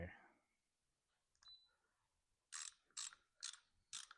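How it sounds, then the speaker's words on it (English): A digital torque wrench tightens bolts on a Subaru EJ253 engine, giving four evenly spaced ratcheting clicks, close and crisp, after a few faint handling noises and a quiet voice at the start. "I'll take it and put it on the torque wrench."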